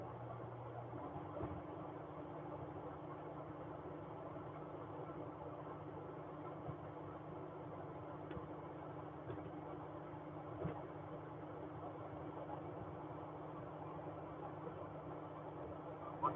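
A car's engine drones low and steady during driving, with faint road rumble throughout and no distinct events.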